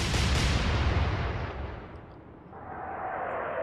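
A battleship's main guns fire in a naval combat game, a loud close blast rolling into a long fading rumble that dips, then rises into a lighter hiss.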